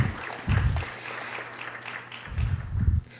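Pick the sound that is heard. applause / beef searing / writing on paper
applause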